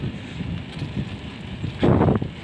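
Strong headwind buffets the microphone on an uphill bicycle road ride, a steady low rumble that swells into a louder gust near the end.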